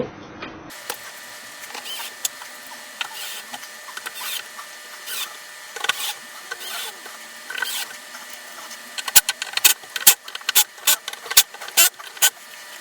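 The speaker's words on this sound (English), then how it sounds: "And all I've got to do is put the screws back in." Screws are driven back into a Bowers & Wilkins DM602 S3 speaker, with sparse clicks and light handling at first, then a run of sharp close ratcheting clicks toward the end.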